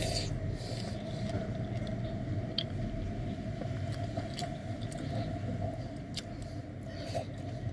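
Someone chews chilled Thong Dee pomelo up close, soft wet bites and mashing under a steady low background hum, with occasional faint clicks.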